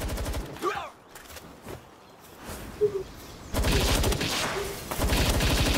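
Gunfire in Palworld during a co-op battle, rapid bursts of shots at the start and again in a loud sustained stretch near the end, with quieter game sounds and faint chirps between.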